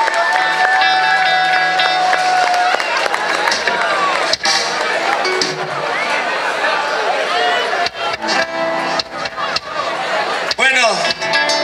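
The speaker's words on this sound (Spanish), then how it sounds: "Marcelito Campos, el aplauso fuerte, grande." A festival crowd at the Fiesta de la Pachamama in Amaicha del Valle cheers and applauds loudly and steadily for a performer, while someone speaks over the noise on a loudspeaker.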